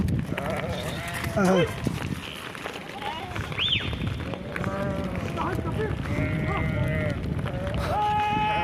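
Sheep bleat repeatedly at close range along a green rural valley road in İdil, Şırnak, the calls rising over steady outdoor noise while someone talks to the flock throughout.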